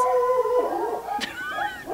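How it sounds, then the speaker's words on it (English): Several dogs howling together indoors, loud, close wavering howls that overlap and rise and fall, with a sharp yelp partway through. "You can hear my dogs."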